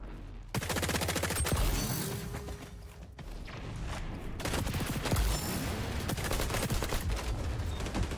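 An AK rifle fires in the shooter game XDefiant in rapid, dense bursts of loud cracks, nearly continuous, with brief pauses and a few mechanical clicks between volleys.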